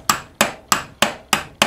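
Six sharp metallic hammer blows land at an even, quick rhythm as a bearing's outer ring is driven into its housing on a John Deere STX38 lawn tractor, each strike close and ringing briefly.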